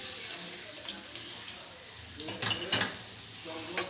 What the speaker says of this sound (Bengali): আমি পেঁয়াজ কুচনোটা দিয়ে দেবো।